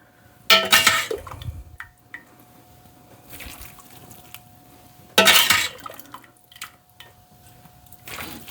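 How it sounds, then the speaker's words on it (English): Broth ladled into cornbread stuffing in a kitchen, a few distinct splashing pours with clinks of the ladle against the pan, separated by quieter gaps and small drips. "now we are going to start ladling the broth in, just a ladle at a time, all the way around."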